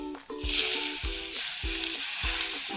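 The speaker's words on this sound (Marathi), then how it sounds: "असं व्यवस्थित गरम तेल याच्यात घालून घ्यायचं आहे" Hot oil poured over finely crushed garlic in a small bowl for a stuffed red chili pickle, a loud steady sizzle and crackle with a few soft clinks of a utensil.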